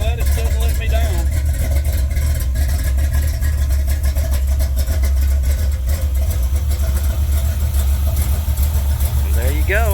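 A 1964 Plymouth Valiant slant six with a single exhaust idles steadily after starting. Its deep, even rumble stays loud and close throughout, with brief voices over it.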